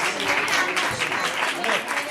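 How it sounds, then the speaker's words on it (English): Audience applauding at a bhajan satsang performance, brisk dense clapping from many hands, close and continuous for a couple of seconds. "Please encourage them by clapping."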